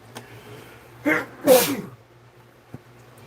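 A close, sharp human sneeze, preceded by a short catching breath, in a quiet room.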